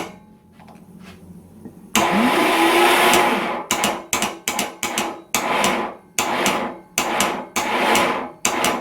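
A car starter motor on a bench test whirs loudly as it spins its pinion, cutting out and restarting in a series of short, rhythmic bursts while the pinion is held and released with a piece of wood.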